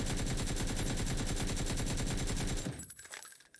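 Rapid sustained automatic rifle fire in PUBG during a recoil test, a dense fast stream of shots for about two and a half seconds before stopping abruptly, leaving brief fading echoes.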